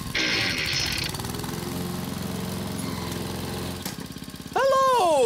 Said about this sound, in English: I'm mowing the grass for Mimi's party.